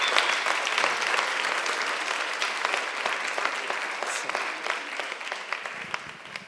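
Audience applause greets two pastors at a church academy event in Milan, a dense, steady clapping from a sizable indoor crowd that holds for several seconds before gradually thinning toward the end.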